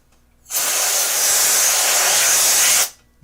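Compressed air sprays in one continuous hissing blast of about two and a half seconds, cleaning dust out of a 2009 MacBook Pro, loud and steady, starting and stopping abruptly.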